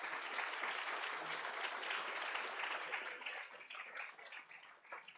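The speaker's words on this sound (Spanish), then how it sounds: "Pido un aplauso para despedir al profesor." An audience applauds to send off a professor after a talk, dense steady clapping from a crowd that holds strong and then thins and tapers toward the end.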